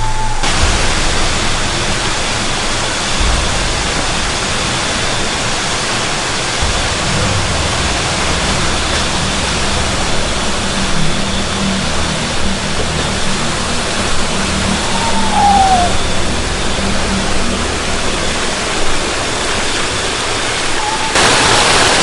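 Curug Ciangin waterfall in Subang at night, a loud, unbroken broadband roar of falling water that holds steady throughout, with faint vehicle-like rumble early on and a brief chirp in the middle.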